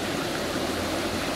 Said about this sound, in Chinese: 山里面的水好大。